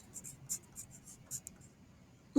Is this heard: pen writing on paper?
yes